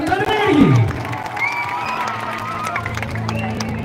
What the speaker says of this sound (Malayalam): ഓരോ കയ്യടി നമ്മൾ ചോദിക്കാം